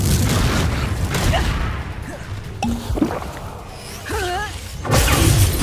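Spell blasts and explosions from the Hogwarts Legacy video game combat fill the mix with loud, dense booms and crashes, overlapping whooshes and a few rising magical tones, continuous and near with no pause.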